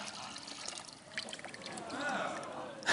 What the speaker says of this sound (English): Right, we're just going to pour that in there.